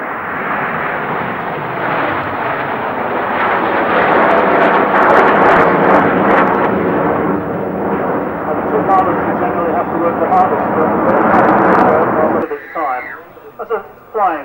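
Display aircraft performing at the Farnborough Air Show, its engine roar loud and sustained for most of the span with a commentator talking over it, then cutting off abruptly near the end.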